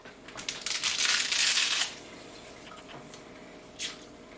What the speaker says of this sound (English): I'm adding probably half a box of spaghetti noodles broken up into small pieces